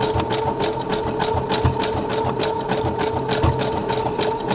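A sewing machine runs steadily doing decorative top stitching along a serger seam, a loud, even, rapid mechanical hum with a regular stitch rhythm throughout.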